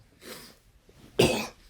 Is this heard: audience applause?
no